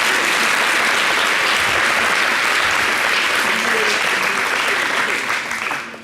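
Studio audience applauding on a television set as a guest, President Bédier, makes his entrance: loud, dense clapping throughout, easing slightly at the end, with a voice faintly under it.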